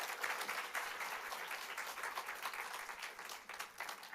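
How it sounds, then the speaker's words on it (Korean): A church congregation gives sustained applause, a dense, even wash of clapping from many people lasting the whole stretch at moderate distance. "주님께 감사와 영광의 박수 한번 올려드리며 마치겠습니다"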